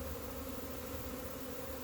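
Honey bees hum steadily around a hive in spring, a dense, continuous buzzing drone from many insects, fairly faint and with no talking.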